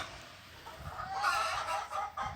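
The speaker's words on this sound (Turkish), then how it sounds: "Bu arada tavuk sesleri de hoş geliyor" Hens cluck softly in short, uneven bursts at a middle distance over a quiet outdoor background.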